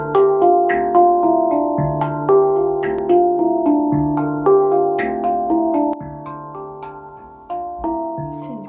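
Someone plays a Chinese-made handpan bought on Amazon and said to sound bad. It gives a steady run of struck, ringing metallic notes in a melodic pattern, close and clear, with each tone decaying under the next and no talking.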